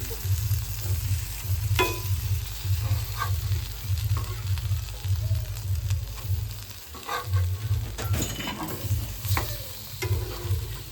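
Fish pieces sizzle steadily in a frying pan as they are turned over, with intermittent scrapes and knocks of a utensil over a constant low hum, no voices.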